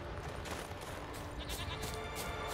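A goat bleats in The Witcher 3 near a valley village, set in dense, continuous game ambience that stays busy throughout.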